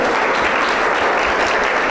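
Loud, dense applause from a church congregation during a sermon, continuous clapping that fills the room evenly for the whole stretch with no speech over it.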